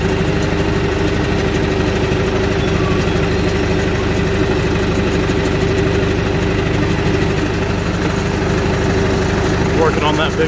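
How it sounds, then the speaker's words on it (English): A skid steer engine runs steadily at a muddy dirt work site, a loud, constant, mid-low droning hum that lasts from start to finish. "You can see the track spinning on the skid steer."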